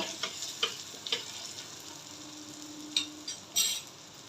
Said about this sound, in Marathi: कांदा फक्त एक मिनटं परतून घ्यायचा